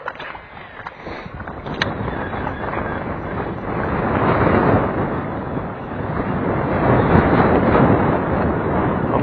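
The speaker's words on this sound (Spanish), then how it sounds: "Muy fuerte el viento, ¿escuchan ahí en cámara?" Strong wind buffets a microphone outdoors while fishing, making a loud, rough broadband roar that builds and gusts steadily over about nine seconds.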